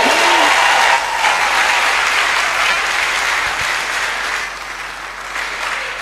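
A church congregation applauds loudly and continuously during a testimony service, dense sustained clapping that fills the room and fades slightly toward the end.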